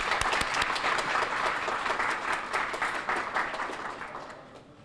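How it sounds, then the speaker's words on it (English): Applause fills the room at the 2015 Mathmathic Awards ceremony, crisp close claps at first settling into a broad crowd ovation that gradually fades away near the end. "An applause."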